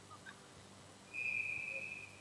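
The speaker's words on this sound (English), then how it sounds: "I don't know if that was going to be a premature whistle." A referee's whistle at a Canton-Akron Jets ice hockey game blows once, a single sustained shrill tone lasting nearly a second, faint over quiet arena ambience.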